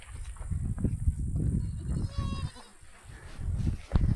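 A little lamb bleats a few times close by, with a person talking intermittently and handling noises around it.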